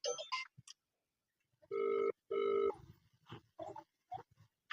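Two long electronic telephone rings sound in close succession through a phone on hands-free, steady and fairly loud, with brief scattered clicks and faint voices before and after.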